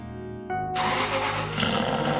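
A car's 4.3 litre V8 engine cranks, catches and roars into life close by, then revs and settles into a loud, rough rumble with no voices present.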